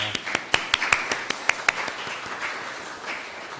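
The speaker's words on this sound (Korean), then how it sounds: "우리 옆에 있는 분들 박수로 환영하겠습니다" Scattered claps from a church congregation during a Sunday worship service in Darmstadt, a few sharp distinct hand claps in a loose irregular rhythm fading over a few seconds, fairly quiet in a reverberant room.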